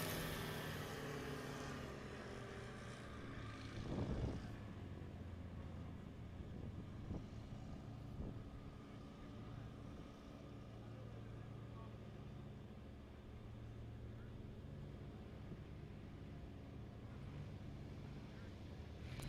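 A STOL aircraft's propeller engine drones steadily at a short-takeoff-and-landing competition practice as the pilot works the throttle. The hum is low and fairly distant, with a slight rise in the first few seconds.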